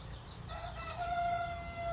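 A rooster crows once, a fairly close drawn-out call, among other chickens with faint clucks and a low murmuring background.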